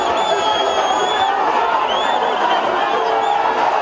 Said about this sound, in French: Au milieu d'une foule d'électeurs surexcités